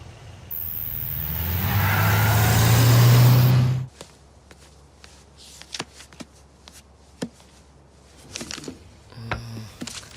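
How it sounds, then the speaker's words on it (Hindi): A car or truck engine starts loud and steady with a low rumble at night, then cuts off abruptly after about four seconds, leaving a quiet room with scattered small knocks and handling noises. "चल गाड़ी चला।"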